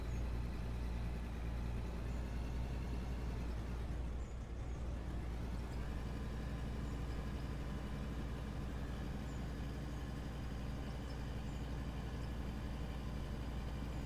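LW2350 wheel loader engine in the Out of Ore mining game, a loud, constant low drone and rumble that holds steady throughout with no talk.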